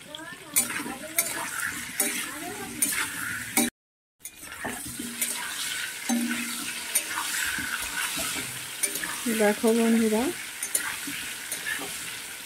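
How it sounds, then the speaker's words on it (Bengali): Potatoes frying in a pan with turmeric, salt and bay leaves, loud steady sizzling with stirring clatter, a brief dropout, and a voice speaking over it. "আলুটা অনেকটা ভাজা হয়ে গেছে"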